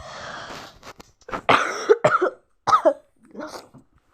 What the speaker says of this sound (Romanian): Dar ce tușesc. Tușesc cam tare.